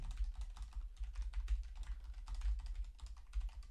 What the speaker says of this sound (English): now I'll stop talking so you can hear me typing.